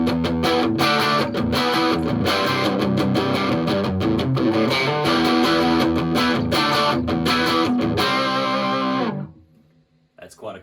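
Distorted electric guitar through a Tiny Marshall JMP amp with the contour control turned fully left, chugging riffs played continuously for about nine seconds, then cut off into near silence with a faint noise at the end.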